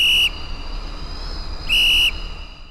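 Two loud, shrill whistle blasts, each held steady for about a quarter second to half a second, separated by a long pause with steady background noise.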